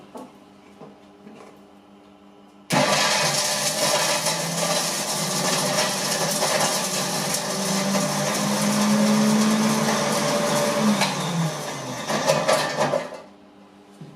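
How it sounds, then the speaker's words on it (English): A loud, steady motorized whir of a commercial blender runs for about ten seconds after a quiet start, then cuts off. "It's a commercial blender, but I use it for my home."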